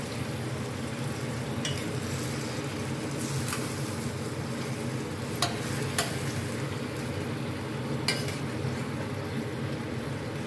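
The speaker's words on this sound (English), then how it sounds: "Then I'll just spoon a little bit of that sauce on top." Beef ribs braising in sauce in a pot on the stovetop, with a steady low sizzle and simmer throughout and a few soft clinks of a spoon against the pot as sauce is ladled over.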